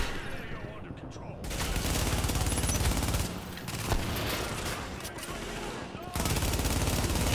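Dense, sustained gunfire from The Division as a player's deployed turret is shot, loud and continuous with brief dips near the middle and toward the end.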